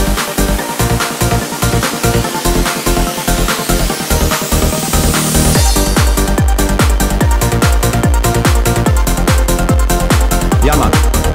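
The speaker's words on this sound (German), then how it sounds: "Jetzt noch eine geschlossene Hi-Hat und eine Crash." Electronic drum beat that builds with closed hi-hats and a crash, a rising riser sweep and a snare break, then drops into a dense, loud, driving groove with punchy kicks.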